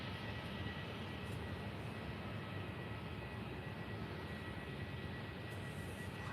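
A Thai VietJet airliner at Faro airport rumbles faintly and steadily in the distance, a low, even wash of jet noise with no talk over it.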